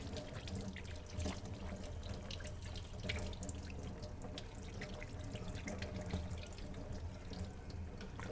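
Tap water runs steadily into a sink during handwashing, a continuous close splashing hiss with small irregular spatters from hands under the stream, no talking.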